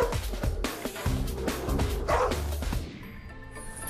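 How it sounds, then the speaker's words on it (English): A frightened dog guarding her puppies barks repeatedly, with loud close yips and bow-wows in quick succession that trail off into quieter whimpers. "a frightened dog, left on its own for days, protects her puppies."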